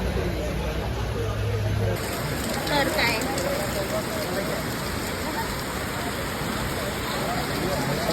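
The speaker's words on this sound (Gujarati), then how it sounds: "વરસાદ એક ઘડીએ ઘડી આવીને ચાલુ થઈ જાય" Steady rain falls at the Khetwadi Ganpati festival setup in Mumbai, a dense, continuous hiss with voices talking over it throughout.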